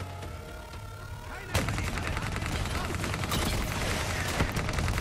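Rapid bursts of gunfire crack out after a sudden loud blast, continuing in dense, rattling volleys over a busy background, in a Call of Duty: Black Ops 3 firefight.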